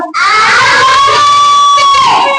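A class of children shouts together in one loud, sustained, high-pitched roar that fills the whole moment without a break.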